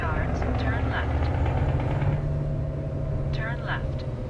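A Scania engine fitted in a modded W900 truck idles in American Truck Simulator, a steady low rumble running throughout with brief higher sounds breaking in now and then.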